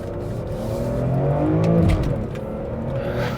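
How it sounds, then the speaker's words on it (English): A 2003 BMW M3 with an SMG gearbox and a six-cylinder engine pulls hard under acceleration. The raw, rough engine note climbs steadily in pitch, then drops at a gear shift and builds again, loud and close with no talking. "6-cylinder engine. It just sounds so raw"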